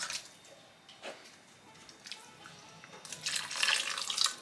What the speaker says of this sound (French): Je viens mettre l'équivalent de 2 gobelets doseurs d'eau